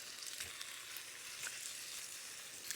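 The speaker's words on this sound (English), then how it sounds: "the pan's almost hot. The fat has melted. And we'll get these chops in." Pork chops fry in a hot pan of melted fat, a faint, even hiss with scattered light crackles and pops, steady throughout, with no speech.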